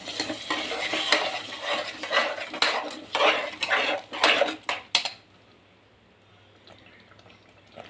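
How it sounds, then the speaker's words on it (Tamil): A metal pressure cooker clanks and scrapes as it is rinsed with water, sloshing for about five seconds, then quiet with faint drips. "நிறைய ஒரு ரெண்டு மூணு டம்ளர் தண்ணி ஊற்றி அலம்பி விட்டுருவோம்"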